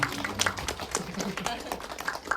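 Audience clapping at a Korean film talk and Q&A event, a steady patter of hand claps filling the room, with voices mixed in underneath.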